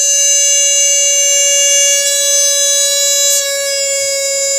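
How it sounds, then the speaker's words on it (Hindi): A continuous electronic buzz rings out from the over-temperature alarm of a Bluetooth home automation project, loud and even in pitch from start to finish, with no other sounds. "ये बजर तब तक बजता रहेगा जब तक कि हम मैन्युअली इसको रीसेट नहीं करेंगे।"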